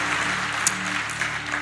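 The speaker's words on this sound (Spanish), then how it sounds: "Si le aplaudí, que sea con gozo." A church congregation applauds during a Spanish-language sermon, a brief burst of steady, dense clapping with one sharper clap standing out near the middle.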